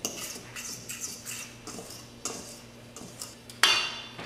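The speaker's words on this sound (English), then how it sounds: "just mix up those dry ingredients really well" Dry ingredients for gluten-free, dairy-free bread being stirred in a bowl, giving a steady run of light scraping and clinking strokes, close and moderately quiet, ending with a sharper knock against the bowl.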